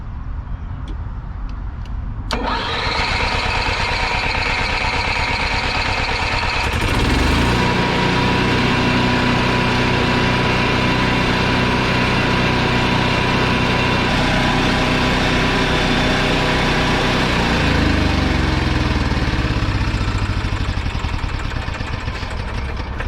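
An Onan QG 4000 generator engine cranks briefly, catches and starts, then settles into a steady, loud, continuous running drone, heard close up for about twenty seconds.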